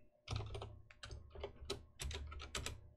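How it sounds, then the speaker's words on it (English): Close, quiet typing on a computer keyboard while code is entered in Unity, with several quick bursts of keystrokes separated by short pauses. "here I'm going to type public void"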